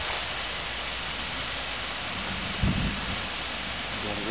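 Steady heavy rain pours down in a thunderstorm, with a short low thunder rumble breaking through near the end over the constant hiss.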